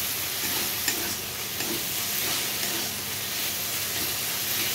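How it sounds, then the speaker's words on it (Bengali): Masala for an egg curry being stir-fried in a pan until the oil separates, a steady close sizzle and hiss with soft scraping stir strokes running throughout, no voices. "দেখো ভালো করে কষাতে কষাতে দেখছো তেল ছেড়ে গেছে"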